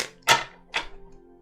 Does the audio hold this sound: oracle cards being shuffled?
yes